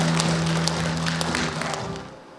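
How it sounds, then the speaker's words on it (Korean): An audience at a ceremony welcoming a speaker breaks into applause, a dense patter of many hands clapping at moderate volume that thins and fades away over a couple of seconds. "따뜻한 박수로 환영해 주시기 바라겠습니다."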